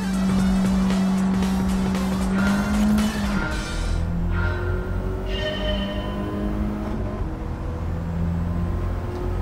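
A car engine in Gran Turismo 7 holds a steady high drone that rises in pitch, then shifts gears and revs on under road and tyre noise, loud and continuous for the whole stretch.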